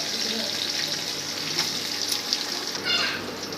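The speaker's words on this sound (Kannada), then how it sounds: "ಆ ಈರುಳ್ಳಿ ಹಾಕತ್ತೀನಿ ನೋಡಿ" Chopped onions and curry leaves frying in a hot pan give a steady, soft sizzle with small crackles, heard close and fairly quiet throughout.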